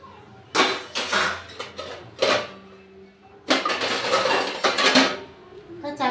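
A metal lid being placed on a kadai while cooking puti fish jhal, several clanking metallic knocks and scrapes in short bursts, close and fairly loud.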